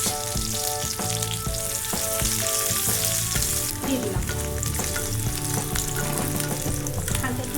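Chopped garlic and onion fry in about two tablespoons of oil for Bangladeshi-style hand-mashed dal, giving a loud, continuous sizzle with clinking, scraping stirs throughout.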